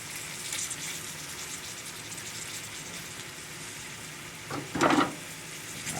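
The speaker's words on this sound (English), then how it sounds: "This is good old southern fried okra." Southern fried okra frying in a pan, a steady soft sizzle and crackle throughout, with a brief louder burst of spatter near the end, heard alone without talk.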